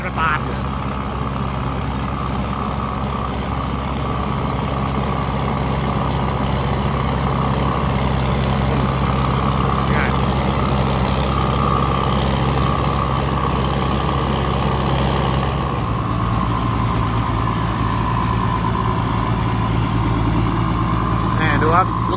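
A combine harvester's heavy engine runs at a steady idle-like drone in a rice field, a low continuous rumble that shifts slightly in tone partway through but never revs hard.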